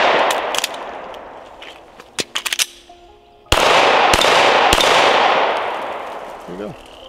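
Pistol gunshots fired at targets, with a quick cluster of sharp cracks followed by several loud, widely spaced shots that ring out and reverberate. A voice briefly speaks at the end.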